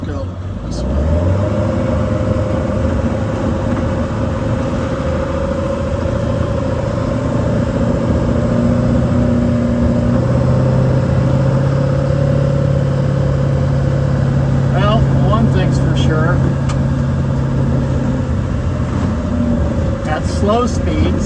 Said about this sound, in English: the truck doesn't seem to mind towing the trailer very much